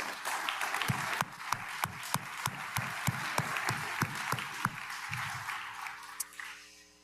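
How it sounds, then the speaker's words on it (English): A conference audience at a National Governors Association gathering claps steadily, with sharp, evenly spaced hand claps standing out over a broad wash of applause that fades near the end as a voice and tones begin. "Please give them a round of applause."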